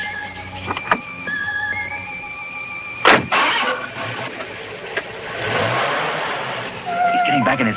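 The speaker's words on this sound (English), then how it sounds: "He's driving off." A car from a 1959 television drama starts up and pulls away on a roadside. A sharp burst sounds partway through, then a broad rising engine rush builds and sustains toward the end, with whistle-like tones scattered throughout.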